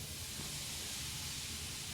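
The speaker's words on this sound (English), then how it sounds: "I gotta keep an eye on that steam so I don't get burned." Steady, broad hiss of escaping steam from a leaking pipe in the horror game Moons of Madness, continuous and fairly loud throughout with a low rumbling hum beneath and no talking.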